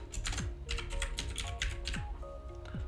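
Typing on a computer keyboard while writing text in Photoshop: a close, fairly quiet run of quick key clicks in an irregular rhythm, with a steady hum of a computer in the background.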